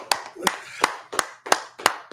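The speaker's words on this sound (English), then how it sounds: "Clap it up, clap it up." An audience at a scripture teaching gathering claps in unison, six sharp, evenly spaced claps at a steady brisk rhythm, close and fairly loud with nothing else in between.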